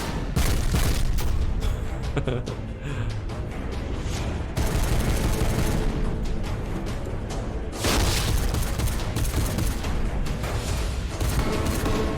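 Rapid gunfire and booming blasts from the Star Wars: Dark Empire animation, loud dense volleys with explosive bursts that continue across the whole stretch.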